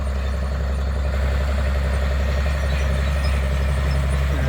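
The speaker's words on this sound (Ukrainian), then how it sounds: "Трактор Джандір." A John Deere tractor pulling a 24-row John Deere corn seeder idles nearby, a steady, loud low-pitched diesel drone with a constant throb and no pauses.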